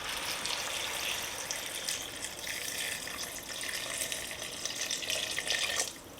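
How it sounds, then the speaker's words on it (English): Water pours steadily from a tap into a pot of cucuzza chowder with corn and beans, a continuous close, bright rushing gush that holds even for about six seconds before cutting off, with no talking. "Now I'm going to add my 4 cups of water."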